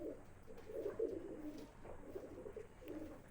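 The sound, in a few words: Madrasi pigeon cooing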